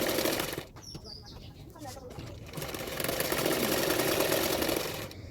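An electric sewing machine stitching a 38-size double katori blouse runs in a fast, dense whir close by, stopping briefly near the start with a few clicks of handling, then rising and running steadily to the end.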